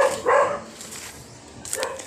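A dog barks outdoors in a Philippine orchard, two short moderately loud barks spaced apart with quiet ambience between.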